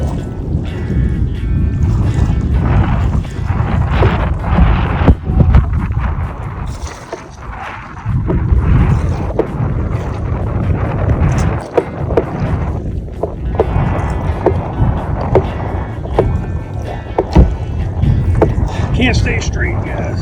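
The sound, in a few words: wind blowing over a small boat on open water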